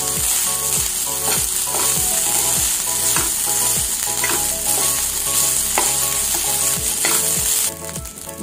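Raw green mango tossed into lemon rice (chitranna) in a hot pan, stirred and fried with a loud continuous sizzle and a regular series of spatula scrapes and knocks, close up, no talking.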